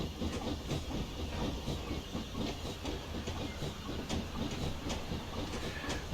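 A BR Black 5 Class steam locomotive runs in Train Simulator Classic, a steady rolling rumble with rhythmic chuffing and clickety-clack of wheels, continuous and fairly close, with no talking.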